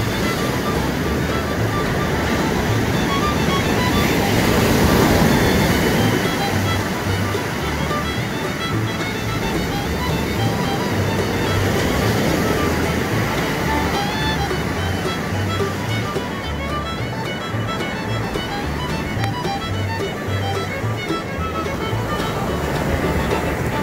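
Ocean surf washes steadily onto a fishing beach, a continuous broad rush of breaking waves that swells and eases slightly over about twenty-four seconds, with faint voices in the background.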